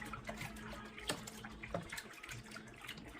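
Mixed Revlon Color Silk hair dye is poured from a bottle into a bucket, making a soft, steady liquid stream that is faint and close, with a couple of small splashy accents.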